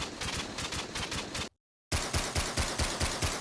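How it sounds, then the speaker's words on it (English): Rapid automatic gunfire from the Commando character in the video game Risk of Rain Returns crackles in quick, evenly spaced bursts, breaking off briefly for a moment of silence before resuming. "have a listen to Commando's gunshots"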